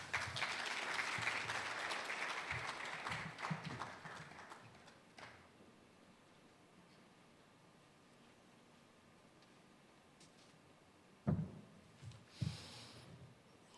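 Audience applause at the Ghana Institute of Architects annual general meeting, a moderately loud burst of clapping that fades out after about five seconds, followed by a quiet room and a few brief knocks near the end.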